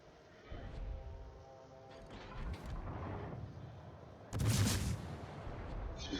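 Naval guns in World of Warships, a Kirov cruiser firing HE shells, boom out in a heavy salvo midway, with distant rumbling battle noise and fainter thuds around it.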